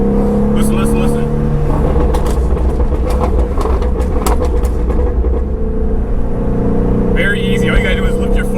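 A Ford Mustang Shelby GT350 exhaust crackles and pops on deceleration: sharp, irregular pops over a steady, close engine rumble, with a voice talking over it throughout.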